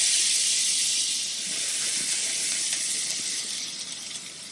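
Onions dropped into hot oil and butter in a pan give a loud, bright hissing sizzle that starts strong, dips briefly, then carries on steadily up close.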